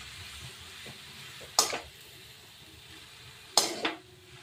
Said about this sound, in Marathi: आणि स्टिअर करायचे, म्हणजे मिक्स करून घ्यायचे.